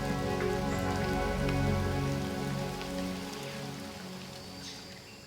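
Rain falls steadily on surfaces in Vietnam as a close, even patter that grows slightly quieter toward the end, with no voices.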